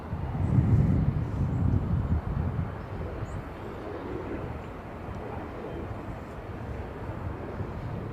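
A SkyWest Embraer jet takes off at LAX, a broad, steady roar that is loudest at the start and then eases into a sustained, slightly distant rumble with wind noise.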